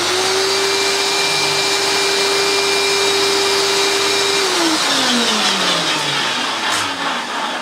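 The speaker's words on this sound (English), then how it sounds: "So we'll start with the Hoover" A pre-refurbished Hoover vacuum cleaner with a worn brush roll bearing rubbing runs as a loud, steady motorized whine, then its pitch slides downward as the motor winds down near the end.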